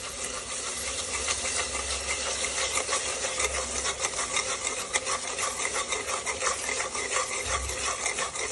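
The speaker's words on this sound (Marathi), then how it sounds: "मिक्स करून घ्यायचं छान दही." Yogurt is stirred into frying masala on low heat for veg dum biryani, making continuous close rasping scrapes against the pan over a bright sizzle, with a few duller low thumps.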